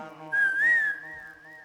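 A single clear whistled melodic phrase during a Tamil folk song performance, bending up and then gliding gently down, loud and close over a soft sustained background tone.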